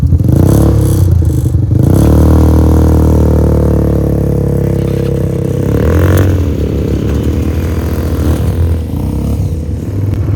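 Off-road buggy engine on a guided tour in the Philippines, a more powerful model than the others, droning loud and steady close up with rattling clatter and a rev surge near the start, no talk.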